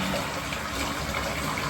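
Water gushing steadily into a bathtub with bubble soap and Bath and Body Works aromatherapy added, a continuous broadband rush filling the whole moment at close range with no pauses.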